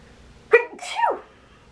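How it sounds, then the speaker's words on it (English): A single close, loud human sneeze: a sharp inhaled catch followed by a forceful burst, alone in a quiet room. "I'm about to sneeze."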